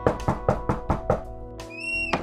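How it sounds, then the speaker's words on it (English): Someone knocks on a door with six firm, evenly spaced raps, close and fairly loud, then a brief tonal musical sting follows and one more thud lands at the end. "I knocked on the door"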